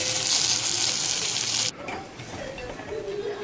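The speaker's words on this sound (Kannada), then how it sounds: "ಕೊತ್ತಂಬರಿ ಸೊಪ್ಪನ್ನು ಸಹ ಫ್ರೈ ಮಾಡ್ಕೋಬೇಕು." Coriander leaves frying in a pan, a loud, dense hiss that cuts off abruptly partway, leaving a quieter sizzle with light stirring and faint movement noises.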